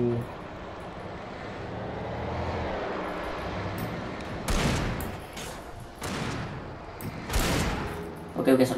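Shotgun blasts in the Alan Wake video game, a few loud broadband bursts spaced a second or two apart over a continuous game-ambience rumble, with a voice talking in the background.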